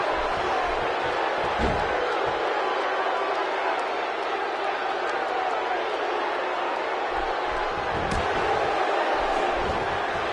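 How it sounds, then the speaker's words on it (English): A dense arena crowd roars for ten seconds during a WWE 2K16 wrestling match simulation, a steady wall of cheering noise. Commentary voices and occasional thuds from the ring sit over it. "by the sound of this crowd, I think they're getting what they wanted"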